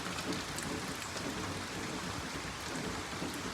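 Rain falls steadily outside on a gloomy day, a dense even hiss of drops on surfaces with no speech, constant in level throughout.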